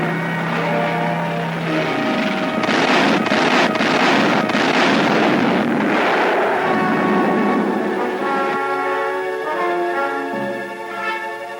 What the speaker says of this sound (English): These amazing shots show the fantastic effect of blast.